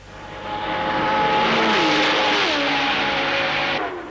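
A 1967 Honda Formula 1 race car at Monza roars past with a high, rising engine note that sweeps and shifts pitch. The sound is loud and continuous, swells through the middle and eases slightly at the end.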